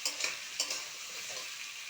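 Taro and potato pieces frying in oil with onion, a steady close sizzle with a few sharp stirring scrapes near the start, no voices.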